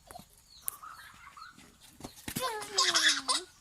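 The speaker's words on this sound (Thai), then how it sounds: "เตะไก่น้องเลยเด้" Chickens cluck in short squawks, ending in a longer rising cackle, with a person talking nearby in the outdoors.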